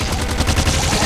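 Rapid gunfire from the top-down shooter Nuclear Throne on hard mode, a fast burst of repeated shots over a dense, loud game soundtrack with no talking.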